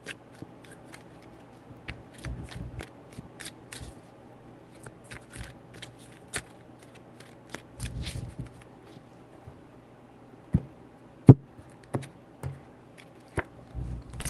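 Tarot cards being shuffled by hand: soft, scattered riffles and light taps come in short bursts with quiet gaps between them. The sound is close, fairly faint and has no talking over it.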